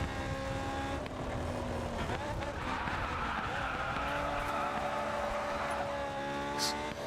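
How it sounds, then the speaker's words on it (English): A drift-type car sliding in GRID 2: sustained tire squeal and skidding over a droning engine, steady and loud for the whole stretch, with the pitch shifting as the slide changes. "you can tell that this thing is a drift type car because the drift is like very smooth"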